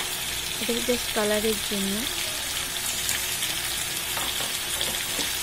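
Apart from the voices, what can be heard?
Everest Kashmiri red chilli powder sizzling as it is added to mutton curry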